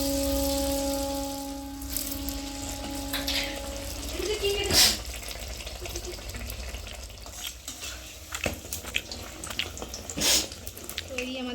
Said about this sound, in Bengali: এভাবে আমি বাদ বাকিগুলো ভেজে নেব